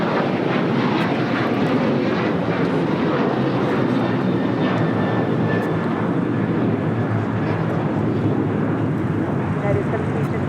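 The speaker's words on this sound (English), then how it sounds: "This is a new flight taking off to Tulum, Mexico on a 737-900 ER." United Airlines Boeing 737-900ER jet on its takeoff roll at LAX, a continuous powerful engine roar with a faint whine rising and fading, while people talk over the noise.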